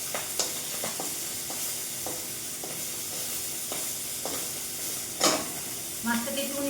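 Fish frying in oil in a home kitchen while mustard and poppy seed paste waits nearby, giving a steady soft sizzle with occasional stirring clinks and a few brief bumps, no talking.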